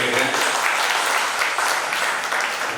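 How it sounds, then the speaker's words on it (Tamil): An audience applauds after a Bharatanatyam dance performance, and the clapping stays thick and continuous at full level the whole time with no break. "கைத்தட்டல் கொடுத்து சொல்கிறேன்"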